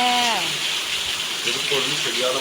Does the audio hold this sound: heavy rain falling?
yes